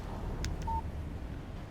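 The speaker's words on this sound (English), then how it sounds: "Text message from Barry" A brief electronic phone alert chimes for an incoming text message in the Alan Wake video game, a short tone heard over low ambient rumble with no talking.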